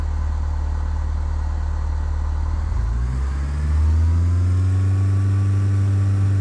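In Microsoft Flight Simulator X, an airplane engine drones steadily, then throttles up to full takeoff power partway through, its pitch climbing into a louder, sustained roar.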